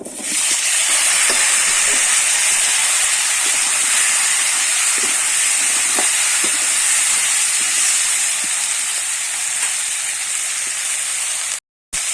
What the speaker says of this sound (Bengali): ওই তেলের মধ্যেই কিন্তু আমি ফুলকপি আলুগুলো ভেজে নেব